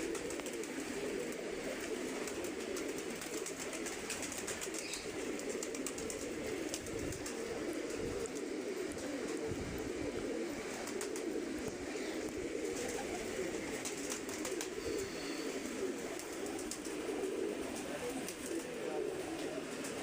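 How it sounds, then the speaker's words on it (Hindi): A pigeon coos softly at a distance, repeating its low calls over faint outdoor background noise. "वहाँ कबूतर बैठ रहा है"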